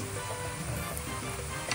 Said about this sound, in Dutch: Even de masala bakken, dat hoort erbij.